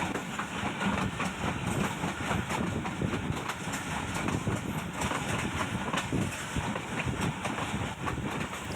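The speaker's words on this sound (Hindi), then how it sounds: "जहाँ पे ट्रैक को अपग्रेड किया जा रहा है वहाँ पे ट्रेन की रफ्तार भी स्लो है" The Millat Express rolls slowly over track under upgrade work, giving a continuous broadband rumble with faint rhythmic clicking of wheels and the hum of the carriage all around, heard from inside the train.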